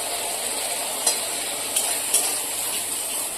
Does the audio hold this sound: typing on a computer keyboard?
no